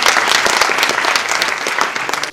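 An audience at a public talk applauds loudly and continuously, a dense patter of many hands clapping close by.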